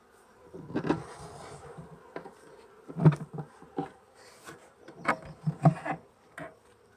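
Bees hum and buzz close by around a hive, mixed with scattered thumps and knocks of wooden hive parts being handled.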